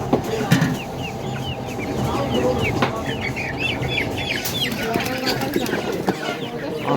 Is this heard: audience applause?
no